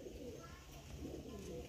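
A red-eyed desi garra pigeon at a Lucknow pigeon sale coos softly and continuously under a noisy, steady background hum.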